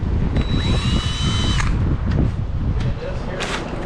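A power drill with a step bit whines and bites into metal in short bursts, with a rising tone as it spins, while people talk nearby.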